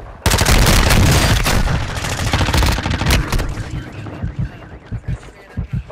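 Dense automatic gunfire in Call of Duty on Ashika Island, a loud continuous roar of rapid shots for several seconds that thins into scattered separate bursts, close by with faint game sounds.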